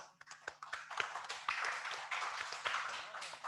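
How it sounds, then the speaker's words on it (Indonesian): Scattered hand claps from an audience at a competition closing ceremony in Aceh, starting as a few distinct claps and building into faint, thin applause in a quiet room. "Kita tepuk tangan dulu"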